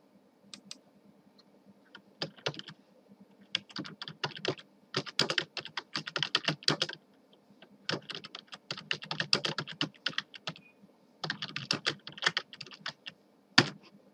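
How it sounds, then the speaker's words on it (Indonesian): An address is typed on a computer keyboard in a word processor, with irregular bursts of crisp key clicks separated by short pauses, close and clear with no talk. "Selanjutnya kita misalnya mengetik alamat."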